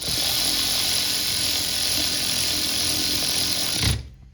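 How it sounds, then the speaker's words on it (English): A ratchet wrench snugs bolts on a front brake caliper of a 1971 Chevrolet C3 Corvette. It gives a steady rapid clicking up close for about four seconds and then stops abruptly. No voices. "I'm just gonna snug them up because I gotta put them in the vise to torque it"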